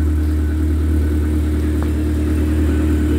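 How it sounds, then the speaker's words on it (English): A 2004 MG TF 135 sports car engine idles close by just after a cold start, with a deep, steady rumble and an even low hum that holds throughout. "I did just fire it up a few moments ago just to get that initial cold start sound"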